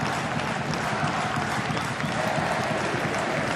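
A football crowd at an A-League elimination final between Adelaide United and Wellington Phoenix celebrates late in the match, a broad, steady roar of cheering and clapping filling the stadium without pause.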